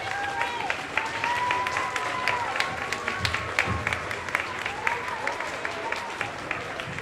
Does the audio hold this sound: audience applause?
yes